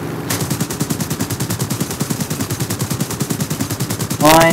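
Rapid automatic gunfire from meme tanks in a video game battle, a steady fast stream of loud repeated shots throughout, ending in a brief rising whine.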